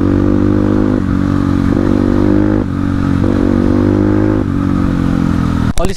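A KTM Duke 390 motorcycle engine drones loudly and close during a ride, its pitch climbing and dropping in repeated rev cycles through gear changes, with wind rush underneath and a brief clatter at the end.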